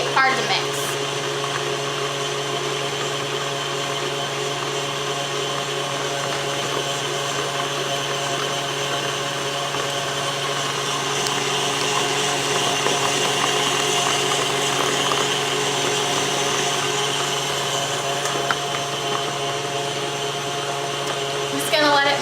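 An electric mixer works cookie dough with flour in it. A continuous, loud motor whine holds steady for the whole stretch, close up and with no pauses.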